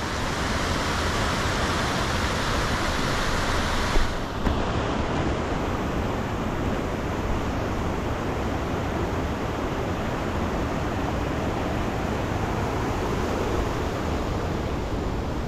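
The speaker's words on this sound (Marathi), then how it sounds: "हे वरून येणारं पाणी" Water runs down from above near the ancient Bedse Buddhist caves after heavy monsoon rain. It makes a steady, dense rushing roar that stays constant and fairly loud, with a brief bump partway through.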